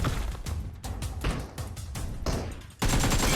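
Bursts of automatic gunfire in the mobile battle royale game PUBG Mobile, several rapid volleys with short gaps, loud and close, ending in a denser sustained burst.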